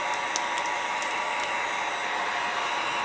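Loud, constant blowing roar of a hot-air gun running steadily while drying painted plastic model parts, with a few faint clicks and ticks over the rushing noise.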